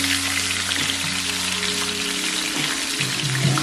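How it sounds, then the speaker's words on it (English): A pot roast sears in a hot pan, giving a steady close sizzle and crackle of frying meat throughout, with faint low background tones and no voices. "let your roast cook on both sides for about 5 to 8 minutes"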